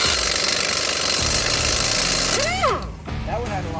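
An Earthquake XT 1500 impact wrench rated at 1500 foot-pounds hammers on a rusty lug nut, a loud rapid rattling burst that stops abruptly near the end, followed by a voice speaking up close.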